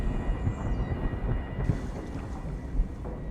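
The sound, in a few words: underwater thunder rumble in the video game Soma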